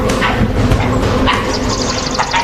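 A pack of wild dogs barks, yelps and whimpers in a dense, loud, overlapping chorus during a tigress attack in the wild, the calls crowding one another without pause.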